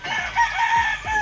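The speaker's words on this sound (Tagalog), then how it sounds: "Yan pa yung isa mga tol na broodcock." A Kelso gamefowl broodcock crows nearby, a single drawn-out cock-a-doodle-doo with a couple of clucks mixed in, loud and clear.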